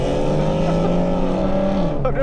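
A tuned 3.7 Ford Mustang with 3.73 gears roars past outside, a loud sustained engine drone that shifts pitch as it goes by and fades near the end.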